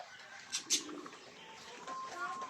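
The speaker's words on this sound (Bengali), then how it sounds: "এগুলো হচ্ছে হুমার কবুতর।" Homing pigeons in an eco park at Chandra Mahal coo softly a couple of times, faint and at a middle distance, over a quiet outdoor murmur.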